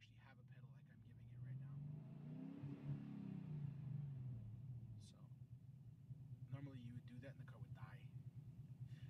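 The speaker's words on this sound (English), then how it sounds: "It's idling right now at 1100." A 426 Hemi V8 in a Dodge Challenger with an aggressive cam idles at about 1100 rpm, a low, loping rumble that swells and then settles into a choppy, uneven idle, with faint voices nearby.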